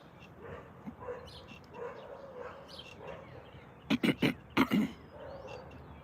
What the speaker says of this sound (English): Can you hear them dogs barking?